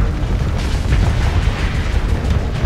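Missiles detonate in the space game Starsector, a loud, dense rumble of overlapping booms and bursts sustained for nearly three seconds without talk.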